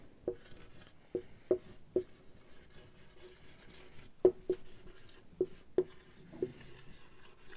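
Quiet tapping and scratching of a pen or marker writing out a probability solution, with a series of irregular light knocks as strokes begin and end, close and soft, with no talking.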